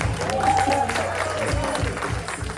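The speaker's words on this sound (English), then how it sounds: "Clap it up, make some noise." A comedy club audience applauds, with steady clapping and crowd noise running throughout while a voice speaks over it.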